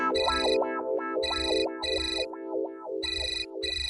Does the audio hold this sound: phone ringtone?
yes